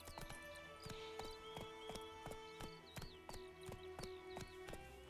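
Galloping horse hooves from The Witcher 3 game, a steady rapid clip-clop rhythm running throughout, close and moderately loud, with game music and birdsong in the background.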